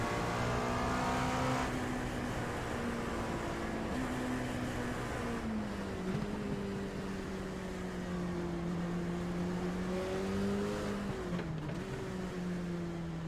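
A race car in iRacing drifts and coasts with a steady engine drone that sags and rises slightly, continuous and fairly loud throughout with no speech.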